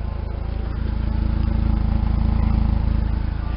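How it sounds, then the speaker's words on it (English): A 1999 Jeep TJ with the 2.5L engine runs at about 2500 RPM, its intake drawing air in a steady, even drone with a low rumbling pulse and no talking. "you start hearing that of that intake sucking"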